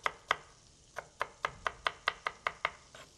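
A knife finely chops an onion on a board: about a dozen crisp, evenly spaced taps in a steady rhythm, close and clear, with no talking.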